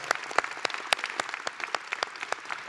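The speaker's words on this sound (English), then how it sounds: "Let's give them another round of applause" An audience at an Indigenous graduation celebration applauds with brisk, fairly even clapping that carries on steadily throughout, heard from a moderate distance.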